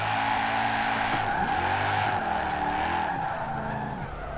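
A Mercedes E63 S AWD drifts in Forza Horizon 4, its tires squealing in long, wavering skids over steady engine drone. The sound is continuous and fairly loud, with the pitch bending as the slide changes.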